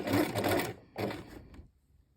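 A sewing machine stitches a cross into fabric in two close, rapid bursts of mechanical chatter separated by a brief pause, then stops and falls quiet.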